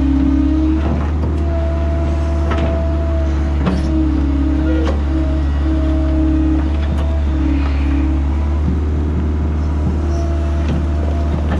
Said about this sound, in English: Got the truck warming up there, machine's warm.